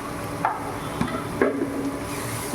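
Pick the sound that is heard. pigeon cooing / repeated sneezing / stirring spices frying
stirring spices frying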